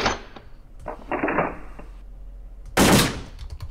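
AK47 rifle fire on a shooting range in the World of Guns video game: a few separate sharp reports, the last one loudest, with quiet gaps between them.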